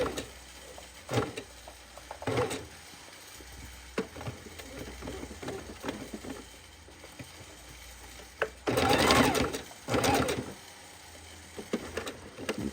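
A home sewing machine stitches raw-edge appliqué fabric in short bursts, the quiet needle chatter starting and stopping several times with a louder, longer run near the end and no talk.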